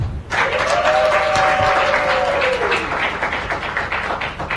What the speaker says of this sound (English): a round of applause for ACT.